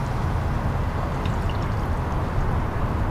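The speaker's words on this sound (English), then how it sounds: "And then I'm going to add a little water." Water poured into a pan of marinated chicken for adobo braising, a steady broad splashing stream that runs continuously and fairly loudly for a few seconds with no talk.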